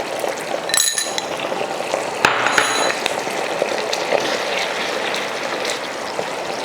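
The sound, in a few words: water being poured into a cooking pan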